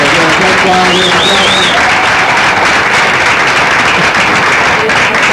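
Audience at a New York improv comedy show for deaf and hard-of-hearing viewers gives loud, dense, continuous applause, with a brief whistle or voice rising over it near the start.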